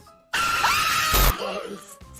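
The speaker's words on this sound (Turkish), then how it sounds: "Evet bağıracağım bu arada kızım" A streamer playing a horror game lets out a sustained, loud scream that starts abruptly, holds for about a second, then trails off into lower vocal sounds.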